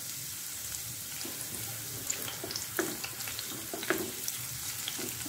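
Onions and garlic sautéing in a pan give a steady, close sizzle, with soft clinks and stirring scrapes scattered through.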